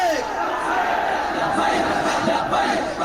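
A large crowd at an Urs Mubarak religious gathering chants the Labbaik Ya Rasool Allah slogan in unison, a loud, dense roar of massed voices that holds steady throughout.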